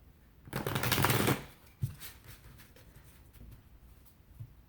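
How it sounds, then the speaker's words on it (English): Oracle cards being shuffled by hand, a dense papery riffle of about a second, then a few soft card taps and light handling sounds, close and fairly quiet, with no talking. "Let's pull a couple of oracle cards here."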